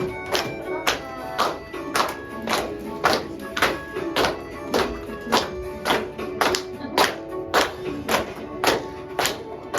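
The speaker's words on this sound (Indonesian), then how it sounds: "Boleh tepuk tangan?" Steady rhythmic clapping, a class of students beating hands together in an even pulse of about two claps per second, with tonal music underneath.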